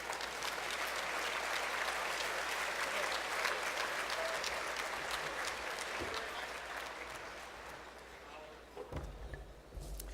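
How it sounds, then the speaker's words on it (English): Steady applause from an audience at a university awards ceremony, sustained clapping that slowly thins out near the end, heard from a distance in a large room. "Please join us in a round of applause for the exceptional support of our"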